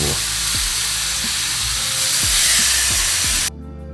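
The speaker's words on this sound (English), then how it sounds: "Now hear this sizzle, guys." Loud, steady sizzling of chicken frying on a hot Blackstone griddle, with a few soft scraping knocks, cutting off abruptly near the end.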